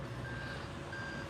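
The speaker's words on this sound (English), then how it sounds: "We got our buddy Marco trying to help this fella back his trailer up" Steady electronic reversing beeper on a vehicle backing a trailer at a landfill, two long tones sounding over a constant low rumble of idling engines, with no one talking.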